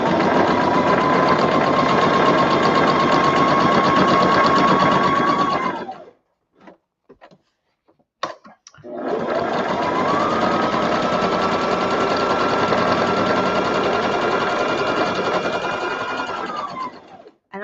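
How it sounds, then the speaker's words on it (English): A cheap Brother sewing machine runs a straight stitch in two long steady bursts, a close, even mechanical whir with a short pause between, no talking. "And I just have a cheap Brother sewing machine."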